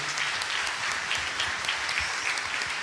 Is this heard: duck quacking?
no